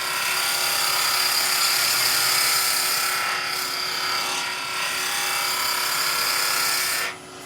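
A wood lathe spins a small Christmas tree blank while a gouge cuts along the top edge, giving a steady high whir with faint scraping that cuts off abruptly near the end.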